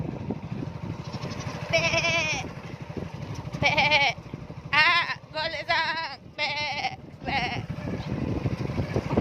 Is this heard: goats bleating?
yes